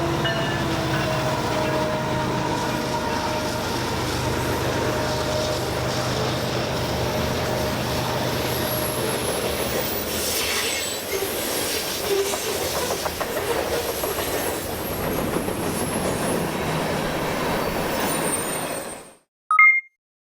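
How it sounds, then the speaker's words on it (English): A train rolls past on railroad tracks beside a hot summer hiking trail, its steady rumble and clickety-clack of wagons continuing loud and close for about twenty seconds before cutting off abruptly. "Finally next to the railroad tracks, and there's another train."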